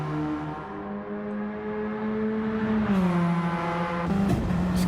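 Radical race cars lapping a circuit during a practice session, engines droning steadily and loud with rising and falling pitch as cars pass, one surging by near the end.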